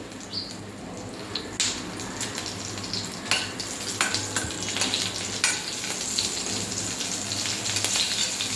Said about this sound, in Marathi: तूप तापलं की त्याच्यामध्ये टाकायचं आहे जिरे टाकायचे आहे हिरवी मिरची